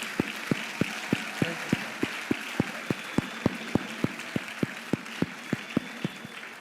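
A conference audience claps together in a steady, evenly spaced rhythm, about three beats per second, over a soft room murmur.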